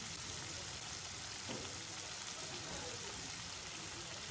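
Chicken liver and gizzard fry in a pan with coriander and green chilli, giving a faint, steady sizzle with a soft crackle throughout and no talking.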